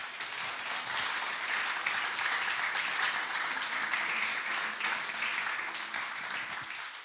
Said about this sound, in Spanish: Le damos un aplauso a Dios